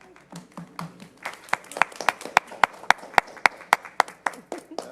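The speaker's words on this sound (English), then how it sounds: "Like Tinkerbell, we live for the applause." Applause at a school board meeting starts as scattered claps among murmuring voices, then settles into a few sharp, evenly spaced claps that stand out in a quiet room.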